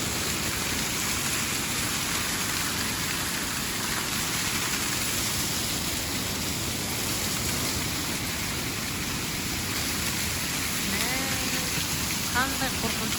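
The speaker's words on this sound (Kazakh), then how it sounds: "Мынау жаңбырдың суы ағыласқан." Rainwater rushes and flows steadily outdoors in Kutaisi, Georgia, a dense continuous wash of noise at even loudness, with a voice talking faintly over it.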